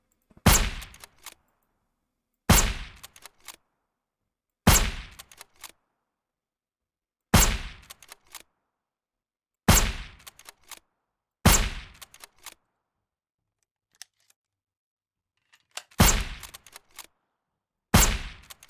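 Gunshots in the zombie survival game Surroundead, fired in single heavy blasts about every two to two and a half seconds, each loud, sharp and followed by a brief echoing tail, with silence between and no talking.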